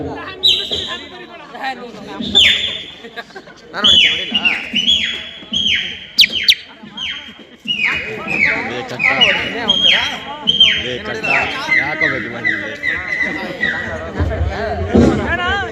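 A single voice mimics early-morning birdsong before a school audience, whistling a long run of high chirps and trills in quick bursts, with crowd murmur and hall noise underneath.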